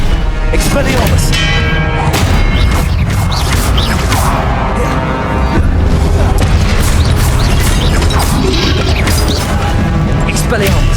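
Repeated spell impacts crack and boom in Hogwarts Legacy combat, a dense, loud barrage of sharp hits and metallic ringing over steady game noise, with a voice shouting incantations.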